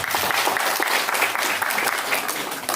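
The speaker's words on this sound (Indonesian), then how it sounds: "Kita beri aplaus dulu Karang Taruna." An audience at a community meeting claps steadily for a youth group, a dense, even patter of applause lasting a few seconds with no talk over it.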